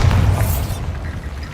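The Bombarda blasting spell explodes in the wizarding game Hogwarts Legacy, a short, loud, booming burst with a low rumble that decays quickly.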